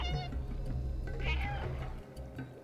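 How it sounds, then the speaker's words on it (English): A cat meow from a video game, heard twice as short, faint, tonal cries over a steady low background hum. "Press the meow button to see if it echoes."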